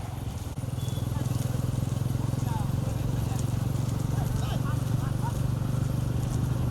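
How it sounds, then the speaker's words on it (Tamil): Bulls' hooves pound as they pull carts in the first round of a small bullock cart race at Surulipatti in Theni district, Tamil Nadu. The hoofbeats form a fast, continuous drumming under loud running commentary and crowd noise. "சுருளிப்பட்டி சிறிய மாட்டு வண்டி பந்தயம் முதல் சுற்று வண்டி பந்தயத்தில்"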